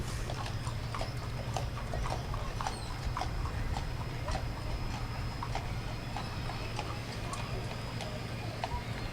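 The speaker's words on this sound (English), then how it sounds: "Always fun to see the horse and buggy." Hooves of a horse pulling a buggy clip-clop in a steady, even rhythm along the route of a county fair parade in Kansas, moderately close over a low crowd and engine hum.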